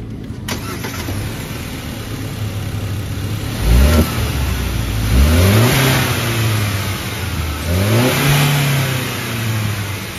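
A BAIC BJ40 Plus SUV's 2.0-litre turbocharged inline-four starts up close by, then revs sharply several times, each rising blip falling back to a steady idle, with no talking.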